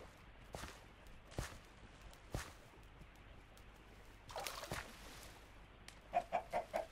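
Chickens cluck in short, separate bursts in Minecraft's Dinocraft mod, fairly faint. A quick run of rapid clucks comes near the end, with a few soft footstep-like sounds between them and no speech.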